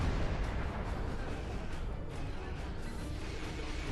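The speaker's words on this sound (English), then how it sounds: "Stop shooting me, please." Weapon fire striking the player's ship in Star Trek Online, a steady low rumbling barrage of blasts and impacts, dense and continuous with no talk over it.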